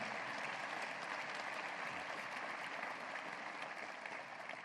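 A large audience at a university address claps steadily, a dense, even wash of applause that holds for several seconds, quiet and slightly distant.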